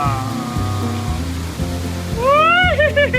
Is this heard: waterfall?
yes